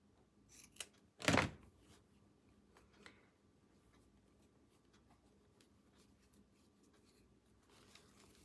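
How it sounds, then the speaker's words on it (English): Scissors snip through ribbon for a wall hanging craft, one sharp close cut standing out after a couple of small clicks, followed by quiet handling noises. "Let's cut one more ribbon tail here and put in there."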